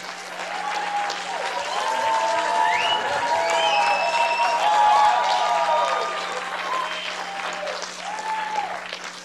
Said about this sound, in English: give a hand, a round of applause to the person who brings this together